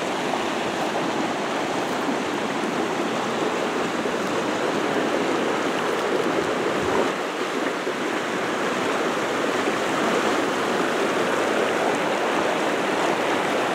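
Steady rushing water of the Tongue River, a dense, continuous wash of flowing current that holds evenly throughout with no talking.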